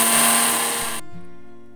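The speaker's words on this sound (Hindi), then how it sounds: "बाकी हमने ग्राइंडर में डाल दिए हैं। अब हम इन्हें पीस देंगे।" An electric kitchen grinder whirs loudly for about a second with a harsh, high whine as it grinds sesame seeds, then cuts off and winds down to a fading low hum.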